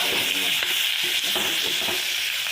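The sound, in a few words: frying bitter gourd in pan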